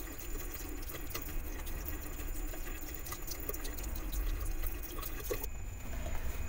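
Water runs and splashes faintly while a face cleanser is rinsed off, a low, steady trickle with soft drips that continues for several seconds.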